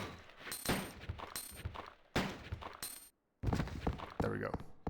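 Gunfire in the video game Resident Evil 2, several loud, sharp bursts of shots in quick succession separated by brief pauses, close and punchy, with no clear talking.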